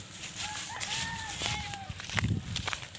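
Goats on a small farm bleat in several short wavering calls, close by, over rustling, footsteps and general yard noise.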